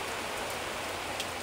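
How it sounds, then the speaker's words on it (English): Rain comes down on a boat with its windows missing, a soft, even hiss of drops on wet surfaces, faint and unbroken from start to finish. "I got a Thanksgiving rain spell going on"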